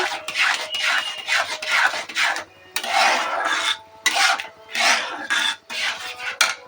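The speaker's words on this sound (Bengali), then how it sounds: "নুন দিয়ে দিলাম দিয়ে এটাকে ঘেটে নেব" Salted lentils are stirred in a pot with a spoon, producing a series of rhythmic, close rasping scrapes about every second, with brief pauses between strokes.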